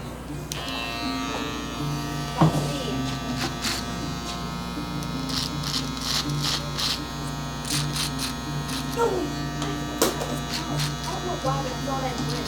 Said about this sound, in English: here you definitely want to use the corners of your trimmer.